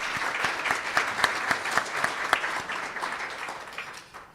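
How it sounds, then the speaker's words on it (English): Sustained audience applause, a dense wash of many hands clapping at steady strength, with a few sharper claps standing out and no voices. "Let's give her a round of applause."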